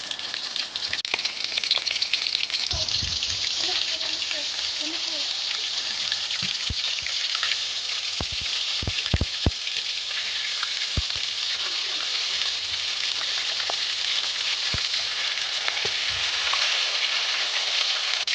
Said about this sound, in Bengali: এবং অনেকটা সময় নিয়ে এগুলো ভেজে নিতে হবে।